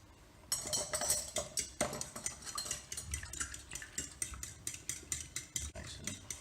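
A utensil whisks an egg mixture with cinnamon and vanilla extract in a bowl for French toast, giving quick, rhythmic clinks and scrapes that repeat steadily at close range.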